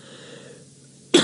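A single sharp cough bursts out near the end after a quiet, low background hum, on a safari game drive.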